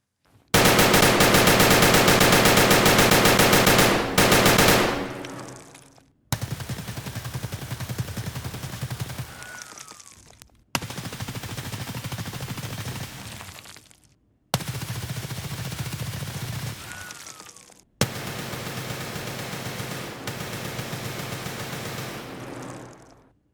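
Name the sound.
fully automatic 5.56 rifle fire in video game Escape from Tarkov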